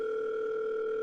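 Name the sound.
telephone ringing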